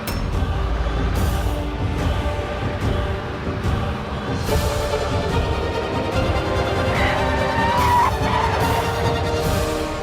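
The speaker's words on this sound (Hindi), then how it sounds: "गाड़ी के ब्रेक फेल हो गए।" A car skids after its brakes fail, a loud continuous scraping rush with vehicle noise building over about ten seconds, with a brief high squeal near the end.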